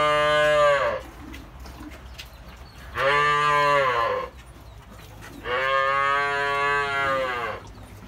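Dairy cows at a cattle sale in Jocoro moo three times in long, loud, drawn-out calls separated by short gaps, with faint background noise between them.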